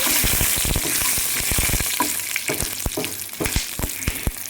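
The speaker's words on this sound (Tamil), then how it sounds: "பாருங்க மிளகு வெடிக்கும் தள்ளி நினைக்குங்க" Close-up sizzling of black pepper and spices frying in hot oil, with sharp irregular pops and crackles bursting over a steady hiss, no voices.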